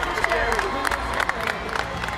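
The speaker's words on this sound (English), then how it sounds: "can we get a big cheer in the audience?" An audience at a Fortnite Summer Block Party creative showdown cheers and claps in a short, lively burst, with a voice talking over the crowd.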